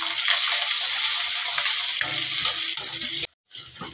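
Sliced onions and curry leaves fry in a pan on a home stove, giving a steady close sizzle with stirring scrapes, then a brief cut to silence before the sizzling resumes.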